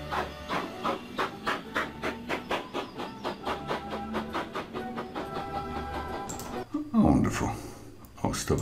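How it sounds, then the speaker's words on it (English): Old steam car driven by an older man: rhythmic chuffing and clattering pulses beat steadily, then a burst of hiss near the end, with faint talk. "An older man driving a steam car."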